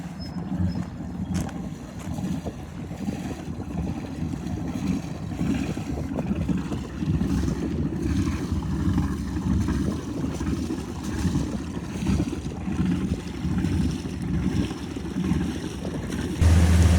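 Twin big-block engines of a Magnum Marine 35 powerboat rumble steadily on the water, a loud, continuous low drone with wind and water wash over it and no talk.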